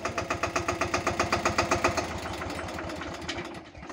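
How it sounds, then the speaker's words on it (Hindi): A Massey Ferguson 5118 small 18 hp tractor engine runs steadily nearby, its rhythmic diesel chug pulsing evenly at first, then settling into a smoother, slightly fading idle with no talk over it. "देखो कितना बढ़िया काम कर रहा है बायो ट्रैक्टर काम करता है"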